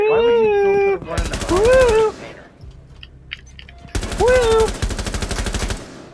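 Rapid automatic gunfire in Rainbow Six Siege, two long bursts of dense, loud shots broken by a short pause, heard under and between bursts of speech and radio-style game voice lines.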